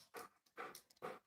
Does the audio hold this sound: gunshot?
no